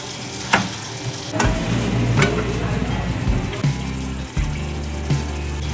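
Cauliflower masala with garam masala and fresh coriander frying in a pan while a spoon stirs it through, giving a steady sizzle with several louder scraping strokes of the spoon.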